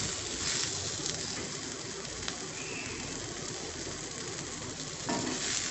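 Two green chillies sautéing in a pan for a country chicken curry: a continuous, dense sizzle and crackle of frying, steady and close throughout. No voices.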